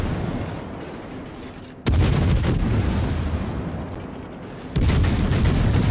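Rapid naval gunfire from a Tier 10 British Minotaur cruiser in World of Warships, heavy booming volleys bursting in suddenly around two seconds and again near five seconds over a continuous low rumble, loud and close with no voices.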